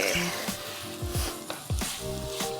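Fried brinjal tossed into a hot pan and sautéed in a brinjal curd curry, giving a soft sizzle with scraping stir strokes and a faint voice in the background.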